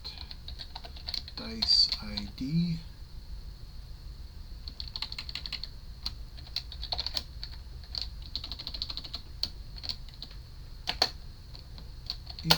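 Computer keyboard keys tap out code in a steady stream of light, close clicks, with a brief spoken phrase near the start and the typing carrying on alone afterward.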